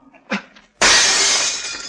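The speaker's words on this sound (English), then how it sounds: "Smash the glass with that chair." Glass pane smashed with a chair: a short thud, then a loud sudden burst of shattering that rings on as shards scatter and fade, close and alone.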